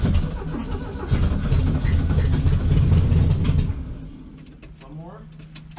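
A 1968 VW Beetle engine, sitting unused for about 40 years, cranks and catches, running loud and rough for a few seconds before dying down, with voices nearby.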